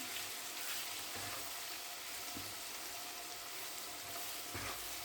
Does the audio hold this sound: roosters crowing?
no